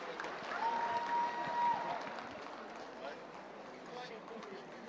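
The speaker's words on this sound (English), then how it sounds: "let's give the Konyak Cultural Troupe a big round of applause for their wonderful" An audience applauds the Konyak Cultural Troupe at the Hornbill Festival, a broad, steady wash of clapping from a large outdoor crowd, fairly distant and moderately loud, with a brief tonal whistle or hum mid-way and faint voices underneath.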